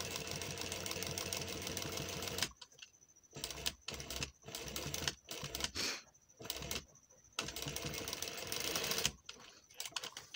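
Sewing machine stitching a zip, with fast, even mechanical clatter in bursts of a second or so broken by short pauses, loud and close.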